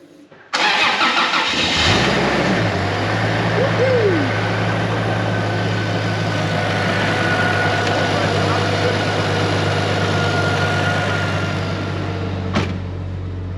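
A turbocharged Toyota 1FZ-FE engine in an 80 Series build cranks and fires on its first start, then settles into a steady, loud, slightly rough idle that holds to the end.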